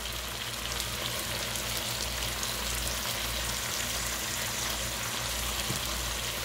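Onion tops and parsley sizzle steadily in a pot of Cajun chicken fricassee, a continuous close frying hiss with soft bubbling underneath and no voices.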